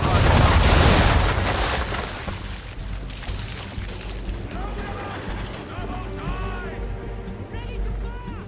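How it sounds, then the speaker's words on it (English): Ship cannons fire round shot in Assassin's Creed 3, a loud booming broadside up front that rolls into a long rumbling decay, followed by creaking ship and water sounds. "Round shot for a start. Fire!"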